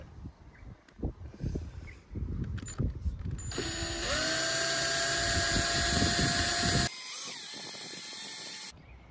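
Small power drill boring a hole with a tiny 2mm bit during a caravan bed-end modification, a steady high whine rising after a few scattered knocks and settling into a sustained, loud, close run before cutting off.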